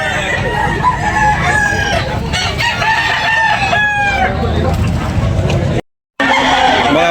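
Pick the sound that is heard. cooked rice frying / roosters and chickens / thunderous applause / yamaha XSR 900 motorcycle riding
roosters and chickens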